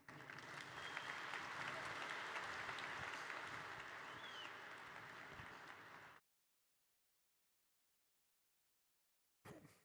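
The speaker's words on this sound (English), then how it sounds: "So round of applause, please." An evening event audience applauds as a presenter is introduced, a continuous broad wash of clapping for about six seconds, distant and quiet, then a sudden cutoff to silence before a brief return.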